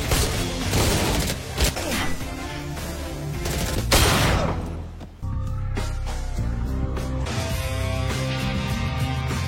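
Pistol shots in an Indonesian action film scene of a police raid on drug dealers: rapid loud volleys crack over a dense, busy soundtrack, then give way to a quieter tonal passage.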